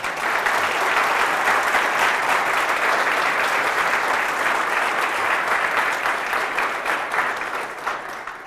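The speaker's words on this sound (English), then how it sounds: "Let's give them a round of applause." Sustained applause from a conference audience at the close of a technical talk, dense steady clapping filling the room at full loudness for the whole stretch, tapering only slightly at the very end, with no voices over it.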